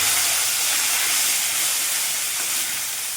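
A whole tomato drops into hot tempering oil, setting off a loud, steady sizzle and hiss that fills the pan and tapers slightly toward the end, close and with no voices.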